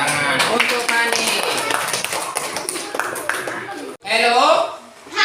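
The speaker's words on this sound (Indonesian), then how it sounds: "tepuk tangan untuk Fani" Children in a primary school classroom clap together in a dense, steady round of applause that fills most of the clip, with voices chattering over it and a brief pause before a short final burst.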